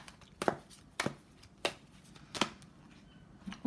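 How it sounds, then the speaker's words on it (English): Tarot cards are shuffled close up in four or five quick crisp riffles spaced about half a second apart, each a short papery burst over a quiet background. "One more shuffle."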